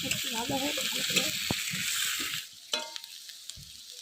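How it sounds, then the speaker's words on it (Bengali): Onions and green chillies frying in oil in a pan, a steady close sizzle with soft stirring clatter, fading after a couple of seconds to quieter crackle with a few sharp utensil knocks. "পেঁয়াজ আর কাঁচা লঙ্কা দিয়ে দিলাম এগুলো একটু ভাজা ভাজা করে নিয়ে"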